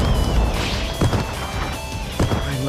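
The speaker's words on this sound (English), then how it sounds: "Exploding Shuriken!" An Exploding Shuriken attack in a fighting video game with Genos and Speed-o'-Sound Sonic, heard as a few sharp crashing impacts over dense game sound effects.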